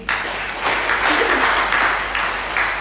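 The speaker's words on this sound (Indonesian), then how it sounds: "Berikan tepuk tangan bagi Allah kita" A church congregation claps together in a dense, steady burst of applause during a Sunday service, close and loud throughout, with a faint voice or two mixed in near the middle.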